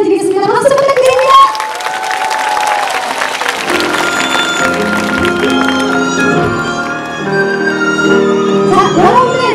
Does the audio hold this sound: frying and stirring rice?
no